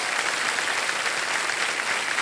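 Studio audience applauding on a game show set, a steady dense wash of clapping with no voices over it, short and even in level throughout.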